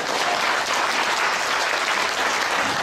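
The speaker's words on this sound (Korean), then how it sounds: "박수 한번 쳐줄래?" Dense, loud applause from a seminar audience at Dongguk University fills the space continuously, a steady wash of many hands clapping together.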